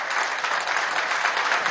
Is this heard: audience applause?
yes